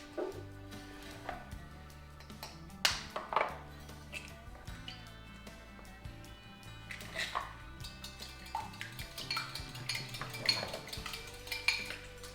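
An egg and a little milk stirred together in a dish, clinking and scraping of utensil against the container in irregular bursts, close and fairly quiet amid background kitchen clatter.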